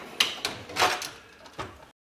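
A toolbox drawer slides and closes with a few soft metallic clicks and rattles, a rolling glide and a final light thud, fairly quiet and close.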